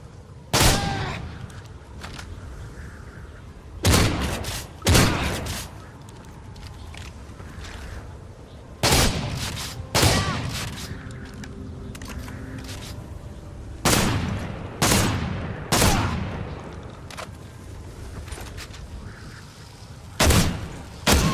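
Shotguns fired while aiming down sights in Modern Warfare 3 gameplay, loud booming blasts in pairs and singles spaced a few seconds apart over a constant game ambience, no speech.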